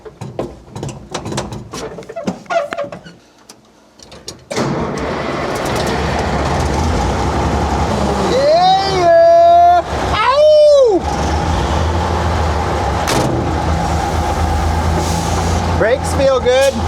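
A dump truck engine cranks and fires up after a few quiet seconds, then settles into a loud, steady diesel idle with rising revs and brief squealing tones, running continuously to the end.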